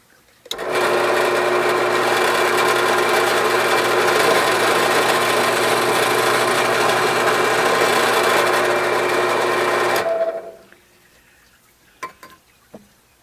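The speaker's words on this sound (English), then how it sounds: "I'll drill a 7/32 hole through the center of this blank" A power drill boring a 7/32-inch hole through a wooden blank whines steadily for about ten seconds at a constant high pitch, then winds down and stops, followed by a few faint clicks.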